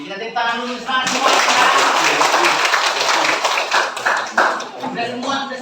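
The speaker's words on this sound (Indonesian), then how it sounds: "Kita tepuk tangan dulu semangat semua" A group of people clapping their hands together in a classroom, a dense burst of rapid applause lasting several seconds, fairly close and loud, with voices talking over it before and during.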